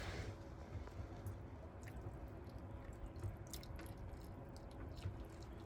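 Water drips in through a small joint on a Colvic Watson 35 boat: faint, irregular droplets and soft splashes over a low rumbling background, close but quiet, without talk.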